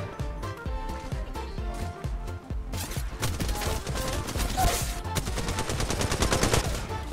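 A weapon fires rapid automatic bursts in Apex Legends Mobile, steady clattering shots that briefly pause, then resume louder and denser, with sustained fire to the end.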